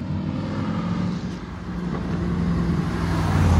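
A BMW S1000 RR superbike rides past on the road, its engine a steady, rising roar that grows louder as it approaches, with broadband wind and road noise underneath.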